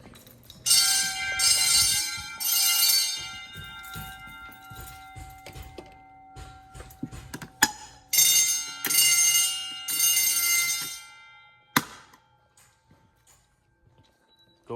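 Notifier 640 fire alarm system bells ringing during a test in a middle/elementary school, sounding in loud repeated bursts with pauses between them, plus a few thumps and faint background activity.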